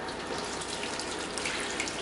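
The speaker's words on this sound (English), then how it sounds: "I'm going to add in the rest of my water" Water pours steadily into a bowl of cinnamon roll dough ingredients, a close, even splashing stream with no break and no talking.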